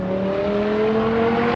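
An Audi S6 with a Lamborghini-derived V10 engine revs hard in a sustained, loud, smooth howl that climbs slightly in pitch before cutting off abruptly.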